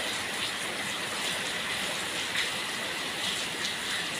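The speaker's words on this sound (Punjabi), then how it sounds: "ਮੀਂਹ ਬਹੁਤ ਸੋਹਣਾ ਪੈ ਰਿਹਾ" Monsoon rain during the first rains of the rainy season in a Punjabi village falls as a steady, even hiss of drops with no breaks and no voices.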